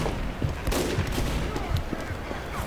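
Team Fortress 2 gunfire crackles in rapid, clustered bursts amid busy game noise, moderately loud, with a voice faintly mixed in.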